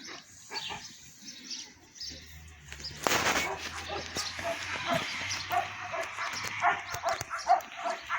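A dog yips and whimpers in short bursts over rustling and handling noise, with a low hum underneath.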